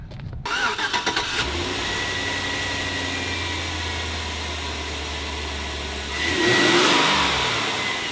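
A GMT800 truck's 5.3 V8 with a Moosun aftermarket air intake cranks briefly and catches, then settles into a steady, close idle before a short rev swells near the end.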